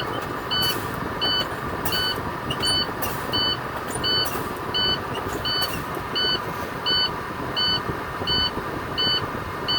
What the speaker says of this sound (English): I will pump my brakes until I hear and see an audio and visual indicator on my dash.